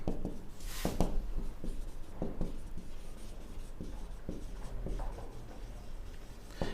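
Chalk or marker scratching across a board during a physics lecture on units and dimensions, with repeated short strokes and taps in an irregular rhythm, close and steady, no talking over it.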